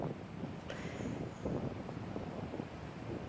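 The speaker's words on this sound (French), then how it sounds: "Il y a pas mal de vent." Strong outdoor wind buffets the microphone during an open-air yoga class, a continuous low rushing roar with gusty swells and no speech over it.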